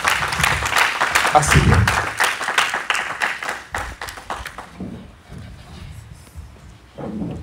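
A congregation applauds at a night prayer vigil with a burst of dense, loud clapping that thins out and fades after several seconds, with a voice speaking over it.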